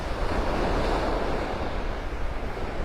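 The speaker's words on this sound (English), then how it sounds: "Bigger waves." Steady surf breaking on a Gulf beach at Delnor-Wiggins in North Naples, Florida, with a continuous wash of waves and some wind buffeting the microphone, no voices.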